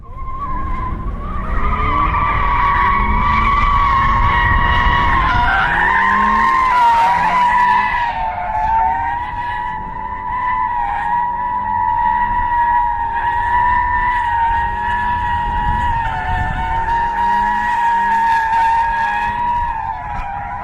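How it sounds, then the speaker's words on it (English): A Toyota 86 with traction control off skids on a snowy skid pad, its engine holding a loud, sustained wail that rises and dips as the car slides, with tire noise beneath. "And the ESP, the traction control is turned off. Hit it, Chris."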